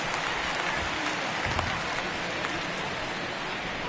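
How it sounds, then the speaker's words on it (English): Steady rain falls at an outdoor baseball stadium during a Giants at Padres game, a dense, even hiss of rainfall with faint crowd texture, continuous and fairly loud without speech. "we've mentioned the conditions aren't ideal with the rain coming down"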